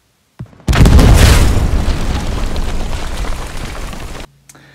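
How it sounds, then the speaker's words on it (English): Satchel charge detonations in the World War II shooter Hell Let Loose: a loud, deep boom bursts in and rolls into a long crackling, debris-like rumble that fades over a few seconds before cutting off. "And your job is to make a lot of explosions."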